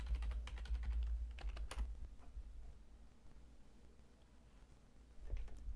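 A password is tapped out on a computer keyboard in quick, light clicks, a brisk burst of keystrokes at the start, then sparser taps and a final couple of presses, close and fairly quiet.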